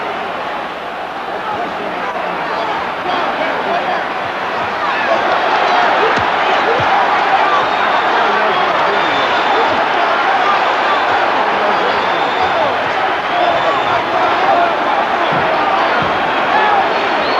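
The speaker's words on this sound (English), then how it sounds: "The crowd, needless to say, is in a bedlam." Boxing arena crowd roaring in bedlam at the 1971 Ali vs. Frazier fight, a dense, loud and sustained wall of noise that swells after the first few seconds and stays high throughout, with a commentator talking over it.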